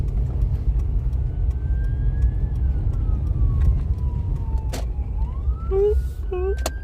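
A police siren wails steadily with a slow rising and falling pitch over heavy low traffic rumble, with a couple of short yelps near the end, on the streets of Skid Row and downtown.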